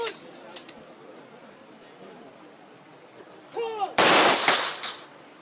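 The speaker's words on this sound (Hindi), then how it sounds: "राजकीय सम्मान के साथ 21 तोपों की सलामी के साथ अंतिम विदाई दी।" Two sharp, loud cannon blasts of a 21-gun state funeral salute ring out close together near the end, after a stretch of quiet crowd murmur and brief voices.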